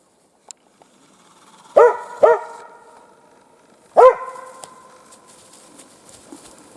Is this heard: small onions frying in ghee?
no